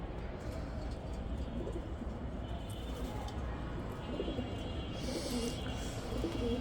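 Giribaz pigeons cooing on a rooftop, low murmuring coos steady under faint background noise and outdoor ambience, with no clear talk over them.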